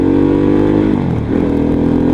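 A 2023 Harley-Davidson Pan America motorcycle runs steadily up close, its engine drone loud and continuous with a brief dip in pitch midway before settling back.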